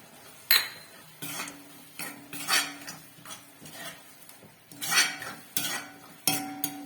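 A metal spoon stirs and mixes chilli powder and Kashmiri chilli powder in a cooking pot for roadside kalan, giving repeated scraping clinks against the pot in irregular bursts, close and clear, with no talk.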